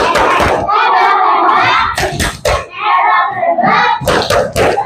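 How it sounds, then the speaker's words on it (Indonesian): A classroom group of children and a teacher clap together in a rhythmic class cheer, loud and close, with voices chanting and calling out over the clapping throughout. "Tepuk hebat buat kita semua."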